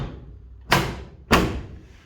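Two solid thuds of a rusty, beat-up 1960s GM vehicle door being shut, about half a second apart, close and loud with no talk.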